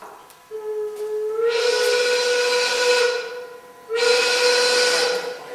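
A factory steam whistle sounds the lunch break in two long, loud blasts, each with a steady tone and rushing hiss, separated by a short pause.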